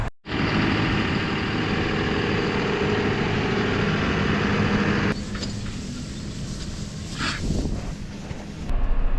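A farm tractor engine runs steadily during daily cattle feeding, a loud close rumbling drone that holds constant, with a brief clank and rattle partway through.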